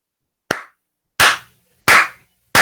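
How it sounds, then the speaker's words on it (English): Four sharp hand claps, evenly spaced and close, each a crisp isolated slap followed by silence. "Both of them like clap for you a little bit."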